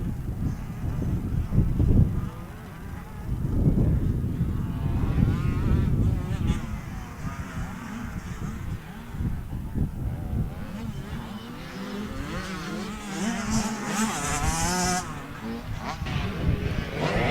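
Husqvarna motocross bikes race around the Winchester Speedpark MX track in an 85cc class, engines revving and buzzing near and far, with a commentator talking over the noise.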